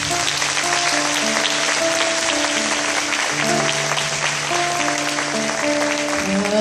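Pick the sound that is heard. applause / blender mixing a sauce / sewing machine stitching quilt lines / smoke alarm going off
applause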